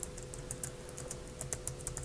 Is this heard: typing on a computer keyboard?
yes